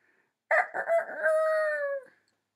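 A rooster gives a single loud, close crow, a broken start stretching into a long held call, with silence before and after.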